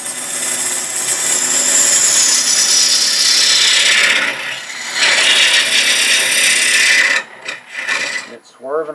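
A woodturning lathe cutting a wooden kitchen canister near its center at about 1,000 rpm, with a loud steady rasping tool scrape that runs continuously, dips briefly, then breaks into choppier cuts near the end.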